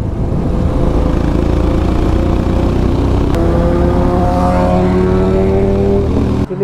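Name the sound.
Himalayan motorcycle with open exhaust riding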